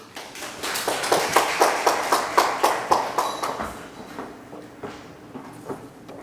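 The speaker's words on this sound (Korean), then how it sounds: "우리 진양이 대표님을 박수로 맞아주시기 바랍니다" Sparse applause from a small seminar audience at a Korean ESG support program session for small businesses, with distinct individual claps in a quick, fairly regular pattern that builds over the first few seconds, then thins to scattered claps.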